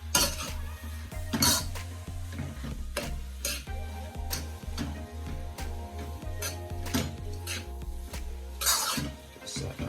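Corned beef and cabbage stirred in a pot with pepper and powdered seasoning, a spoon clinking and scraping against the metal in repeated strokes over a steady low stove hum.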